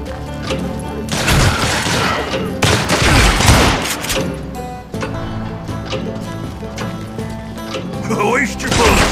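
Gunfire in the Western shooter game Call of Juarez Gunslinger bursts in loud, dense volleys of rapid shots, with raised voices shouting over the shooting.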